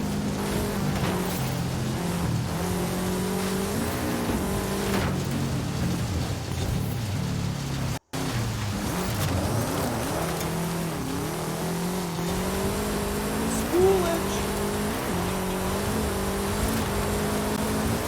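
Porsche engine droning steadily in Forza Horizon 5 on a Dakar-style stage, a continuous loud hum with shifting pitch as the car accelerates and eases off, briefly cut by a split-second dropout midway, without any voices.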